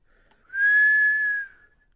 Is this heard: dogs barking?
no